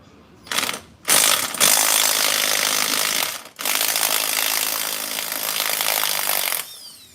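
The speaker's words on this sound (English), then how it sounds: "we're going to remove these bolts" Pneumatic impact wrench removing size 13 bolts from a semi-truck wheel during wheel seal removal, loud harsh bursts of rattling hammering with short pauses, close up.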